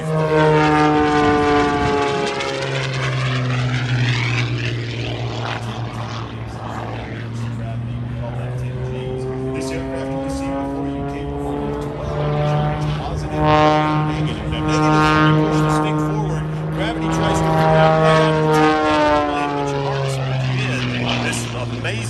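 An aerobatic airplane rated to twelve G performs at an Alaska airshow, its propeller engine droning loudly with rising and falling pitch sweeps as it maneuvers, while an announcer talks over it throughout.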